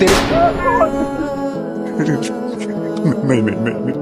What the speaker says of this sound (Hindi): तेरे बेटे के कान के 2 इंच दूर से मैंने गोली चलाई